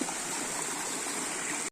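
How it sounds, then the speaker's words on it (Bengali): A stream flows over rocks at a Chittagong waterfall site, giving a steady, dense rush of water that stays loud and close and unchanged throughout before cutting off abruptly, with no voices. "এখান দিয়ে পানি যাইতেছে"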